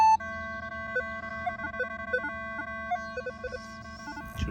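Minelab Equinox 800 metal detector sounding sustained electronic target tones that warble and step in pitch while sweeping over a public park, close and steady, ending with a brief handling noise.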